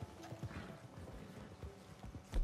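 A horse's hooves clip-clop in a quick receding gallop in Red Dead Redemption 2, a steady patter of hoofbeats fading into the distance with a louder thump at the end.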